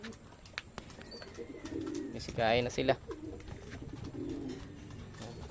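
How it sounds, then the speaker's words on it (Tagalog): Racing pigeons coo softly nearby while feeding, amid rustling and light background noise, with a person speaking briefly between the calls. "Ito na mga kalapatids, mga ibon natin. Kain, kain."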